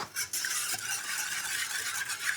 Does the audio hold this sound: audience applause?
no